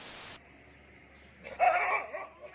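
A single dog bark, close and fairly loud, comes after a brief burst of noise and a quiet stretch, then fades out.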